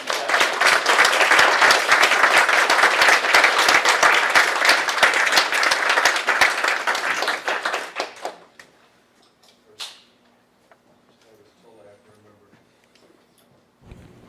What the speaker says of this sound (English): Can we give Jeff Pazzi a big round of applause?